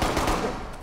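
Rapid video-game gunfire crackles in a dense, continuous burst of shots lasting under a second, loud and close with no clear talk over it.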